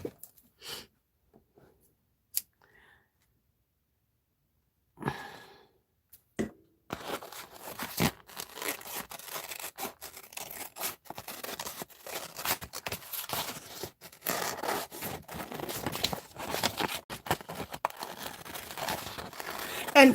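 Irregular crisp scissor snips and paper crinkling for a collage after a few scattered clicks, continuing steadily for several seconds at close range with no talking.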